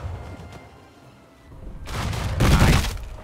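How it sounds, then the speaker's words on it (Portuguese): Bursts of loud, noisy gunfire in the video game Unearned Bounty, a first volley followed by a heavier, louder one, with no talk over them. "Olha lá, tiro de frente."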